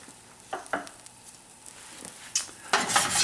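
A chili colorado omelet with a little cheese finishes cooking in a pan, giving a soft low sizzle broken by a few scraping pan and utensil clatters. A louder burst of frying comes near the end.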